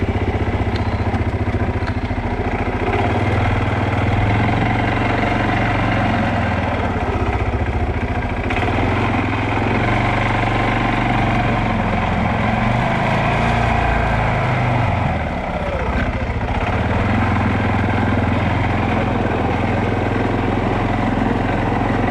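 An ATV engine runs steadily with a low throbbing drone as the quad rolls across a newly completed bridge with a ramp, the sound continuous and fairly loud throughout, with no talking.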